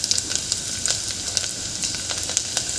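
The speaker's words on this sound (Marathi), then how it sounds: "आता यानंतर आपल्याला जो लसूण आपण घेतला होता तुकडेवाला तो घालायचा आहे" Pieces of garlic sizzling as they drop into hot oil for Vidarbha-style dal bhaji, a dense steady crackle with sharp popping spits scattered throughout, close and loud with no talking.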